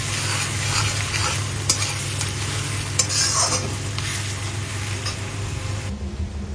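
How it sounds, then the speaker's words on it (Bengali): Onions frying and being stirred in a pan, a steady close sizzle with regular scraping stirs throughout, alone without talk. "এই যে এখন পেঁয়াজ ভাজা চলছে এখানে"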